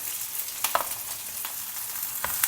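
Chopped green chillies and cumin frying in hot oil in a pan give a soft, steady sizzle, broken by a few quick stirring scrapes, with no talk.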